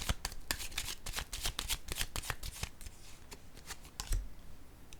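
A deck of tarot cards is shuffled close up, producing rapid crisp riffling flutters and soft slaps over several seconds.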